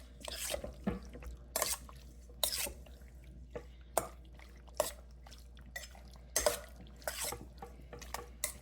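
Chicken pieces are tossed and mixed with black pepper seasoning in a bowl, giving a series of close, soft wet clatters and scrapes at an uneven rhythm with quiet pauses between them.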